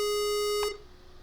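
A chiptune retro lead synth in FL Studio holds a steady, bright buzzy tone that slides briefly in pitch and then cuts off, leaving a faint hum.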